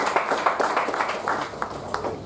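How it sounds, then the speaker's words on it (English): A small audience at a Toastmasters meeting claps for a couple of seconds, giving a soft, uneven patter of separate hand claps with no voices over it. "A big round of applause"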